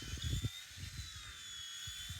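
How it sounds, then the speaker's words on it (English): A small VEVOR C129 V2 RC helicopter flies nearby, its rotor giving a thin, steady high whine over low fluttering thumps, fairly faint and continuous. "Super fun little RC helicopter to fly."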